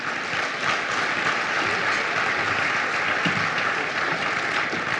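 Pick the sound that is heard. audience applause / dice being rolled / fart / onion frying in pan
audience applause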